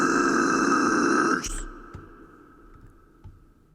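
Guttural metal vocals in a mix, a harsh growled burst lasting over a second before stopping abruptly, followed by faint decaying residue and quiet background.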